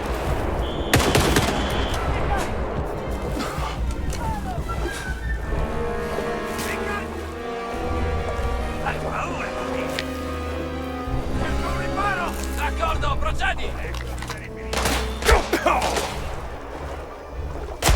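Video game gunfire during an online shooter match: sustained bursts of rapid automatic shots and scattered single cracks over about eighteen seconds, dense and loud, with a player talking over the shooting.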